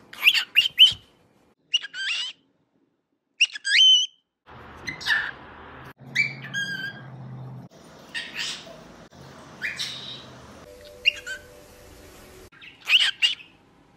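A young cockatiel parrot vocalizing in a string of close, loud chirps, whistles and squawky syllables in short bursts, some sounding like attempts at mimicked words.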